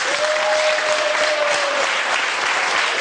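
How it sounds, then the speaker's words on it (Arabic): A large audience applauds a band at a televised music show, with dense, steady clapping that fills the whole stretch at full level with no voices on top. "ونحب تصفيقة كبيرة على الفرقة"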